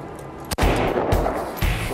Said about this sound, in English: I'm shooting the enemies in the hills. I've never done this before. It's a Kalashnikov